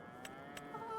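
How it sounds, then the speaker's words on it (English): Cattle moo from a farming simulation game: two short, bright calls a fraction of a second apart, fairly faint over a steady background of game ambience and a rising tone near the end. "let's go ahead and move our sick cow."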